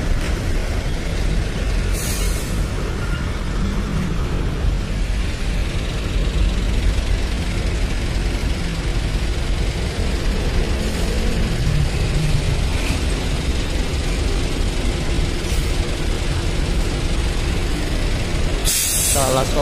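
Trucks and buses idling at a busy gas station, a continuous low rumble of diesel engines with occasional hiss bursts like air brakes, close and steady.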